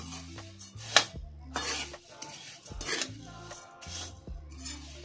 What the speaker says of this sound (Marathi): आता छान त्याला आधी मिक्स करून घेणार आहे.